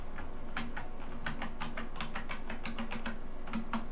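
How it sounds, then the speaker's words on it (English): Computer keyboard keys pressed in an irregular run of sharp clicks and taps, close and clear, with short pauses between bursts. "Press all the keys."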